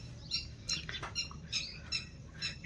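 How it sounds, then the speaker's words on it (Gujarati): Birds chirp and squawk outdoors in short, bright bursts, several calls spaced across a couple of seconds, moderately close over faint background noise and without talking. "અત્યારે પક્ષી કિલોલ કરે."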